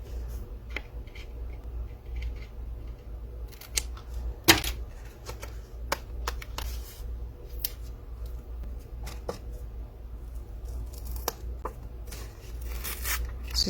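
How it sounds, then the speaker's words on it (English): Shears snipping through paper for a scrapbook album, a series of sharp, crisp cuts and rustles spaced irregularly over a quiet background, with no talking. "let's get my shears"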